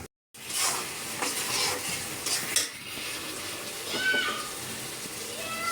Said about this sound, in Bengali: আলু আর টমেটো দিয়ে আগে কষায়া তারপর সিমটা দিব